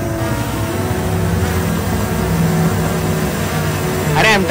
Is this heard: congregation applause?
no